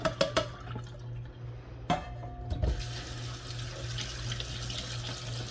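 Escargot are drained and rinsed at a kitchen sink, with a few clatters followed by water running steadily from the tap close by.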